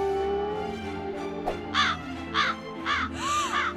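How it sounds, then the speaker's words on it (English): A crow caws three or four times in a steady series, loud and fairly near, each harsh call repeating over a droning musical background in a creepy outdoor scene. "Just a crow."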